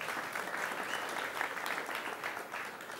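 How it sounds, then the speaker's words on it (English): Applause from a conference audience after a question at a technical talk on TLS, dense even clapping sustained throughout at moderate level with no speech over it. "I had not expected that question to get an applause"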